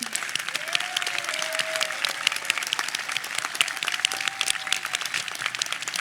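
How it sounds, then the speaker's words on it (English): A high school graduation audience applauds loudly and continuously, a dense wash of many hands clapping with a few faint voices underneath. "Everybody clap."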